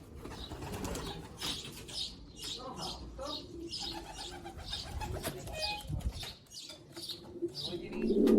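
Pigeons coo repeatedly in a loft, soft rhythmic calls close by, with occasional wing flaps and rustling and some low background talk.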